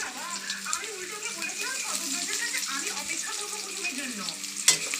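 Onion, chili and salt frying in a hot pan give a steady close sizzle with bubbling crackles, stirred now and then, and a sharp clink near the end as a person talks over it.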